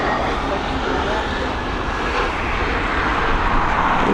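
An airplane lands on the runway at Dublin Airport, touching down on one wheel before settling, with a loud, steady roar of engines and rushing air throughout, and a voice speaking faintly beneath it.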